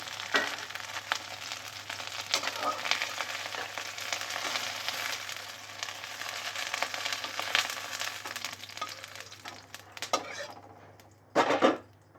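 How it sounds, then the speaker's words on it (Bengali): Okra fries in hot oil in a home kitchen pan, a steady close crackling sizzle running throughout, with a couple of utensil clatters near the end and no talk. "ঢ্যাঁড়সগুলো ভাজা হয়ে গেছে, দেখুন লাল লাল করে একটু ভেজে নিচ্ছি।"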